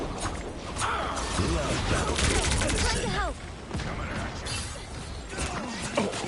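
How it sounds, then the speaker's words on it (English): Dense game gunfire and impacts from Marvel Rivals, a busy barrage of shots and mechanical clatter with a voice talking over parts of it, loud and continuous. "Who is shooting me?"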